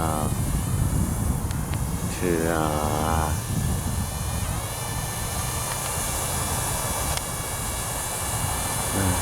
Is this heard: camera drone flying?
yes